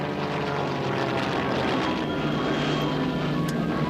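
Enemy fighter aircraft fly nearby, a loud, steady propeller-engine drone sustained throughout with no talking.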